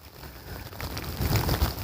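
Monsoon rain falls outdoors in a rattlesnake's desert habitat, a steady hiss of drops with low rumbling gusts that swell toward the end.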